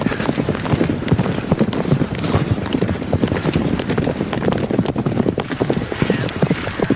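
Cavalry horses clip-clop steadily across the scrubs in West London in the early morning, a dense, continuous patter of many hooves fairly close by with no talking.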